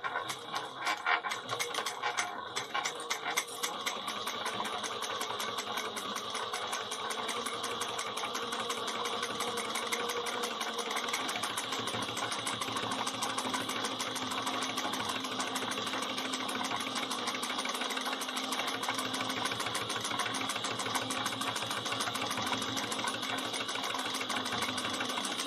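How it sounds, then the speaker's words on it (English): Sewing machine basting two fabric pieces together with an eighth-inch seam, a steady fast mechanical whirring hum running continuously for the whole stretch, close and unbroken, no talk. "we're going to go over to the machine and we're going to baste the two pieces together using 1/8 inch"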